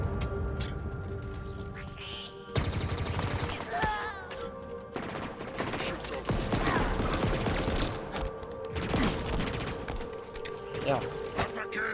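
Gunfire in Halo Infinite comes in dense, rapid bursts mixed with mechanical clanks and other game effects, loud and continuous, while a person talks over it.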